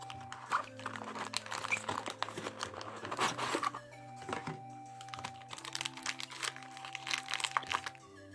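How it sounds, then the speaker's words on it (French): Plastic packaging around an Arc Bahamut 7Li crinkles, crackles and tears in quick, irregular bursts close up, over a faint steady background hum, with no talking. "Bon, je vais me battre avec l'emballage maintenant."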